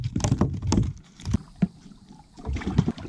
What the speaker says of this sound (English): We're gonna paddle on down to the gar hole and start some gar fishing